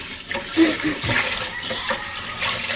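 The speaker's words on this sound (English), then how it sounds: "the maximum amount of time I wash my rice is like 3 times" Water swishes and splashes as white rice is rinsed in a bowl, with a soft, continuous sloshing and light trickles close by.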